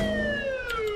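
An ambulance siren in the video game Saints Row: The Third wails in a steady descending tone with strong harmonics, loud and continuous, with faint game noises behind it.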